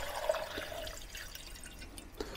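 Water is poured onto the white roots of an orchid, a soft close trickle with scattered drips, fairly faint and steady.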